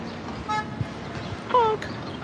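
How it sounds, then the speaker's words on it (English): Two short car horn toots sound on a city street in New York's Upper West Side, a brief beep followed by a louder honk over steady traffic and street noise. "Honk."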